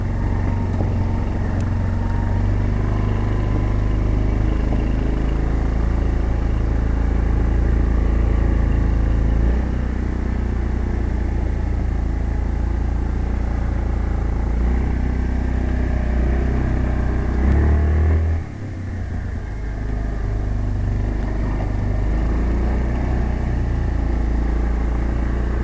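A 2004 Yamaha Bruin push-button 4x4 ATV engine runs steadily with a plow attached, a loud, close, continuous drone that shifts slightly in pitch and dips briefly near the end.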